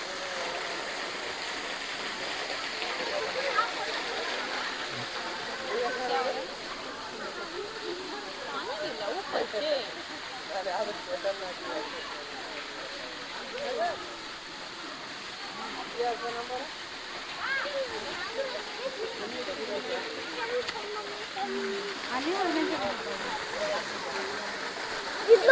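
A waterfall pours over sea cliffs with a steady broadband rush, constant and moderately distant, while a person talks over it throughout.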